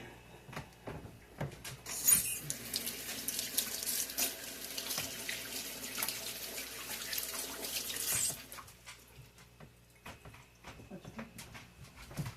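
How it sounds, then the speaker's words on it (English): Water from a kitchen sink tap runs steadily while hands are washed, with splashing for several seconds before the flow shuts off; faint clatter and a voice appear in the background. "Let me wash my hands."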